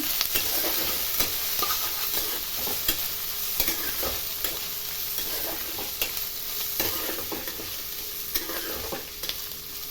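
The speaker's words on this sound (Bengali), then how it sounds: "এই দিয়ে আমি সামান্য ভাজা ভাজা করে নেব।" Gobindobhog rice grains sizzle and crackle in a hot pan while a utensil scrapes and stirs them in repeated close strokes.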